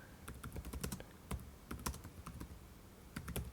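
Quick bursts of close keystrokes on a computer keyboard as a commit comment is typed, with short pauses between clusters of taps.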